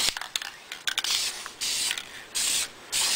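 Spray paint hisses in several short bursts, each a second or less with brief pauses between, as the first coat goes onto a wheel, close and fairly quiet, with a few clicks and taps before the spraying.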